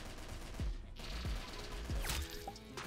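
AK-47 shots in the Roblox shooter Arsenal fire as a handful of sharp separate cracks about two-thirds of a second apart, then a quicker cluster, loud against a busy game background.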